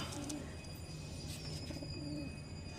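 Pigeons kept for sale coo in soft, repeated low calls, a few rounds over a faint steady background hum, close by and quiet, with no voices.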